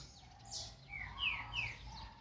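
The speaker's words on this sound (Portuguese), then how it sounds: "O passarinho é aquele lá." Green-winged saltator songbird in an aviary chirping in a few short, moderately faint phrases, with quiet background noise and no talk.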